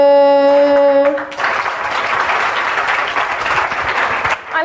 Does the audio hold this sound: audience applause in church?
yes